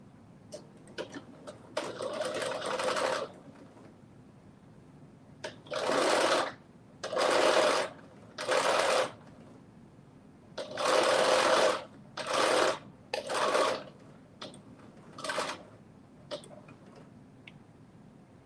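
A sewing machine stitches a seam a quarter inch from the edge in quick bursts of rapid mechanical whirring and ticking, some short and some longer, with quiet pauses between them.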